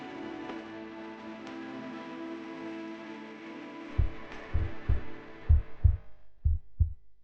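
A heartbeat effect enters over a low steady hum, its deep double thuds coming in a slow, regular rhythm that grows more prominent toward the end.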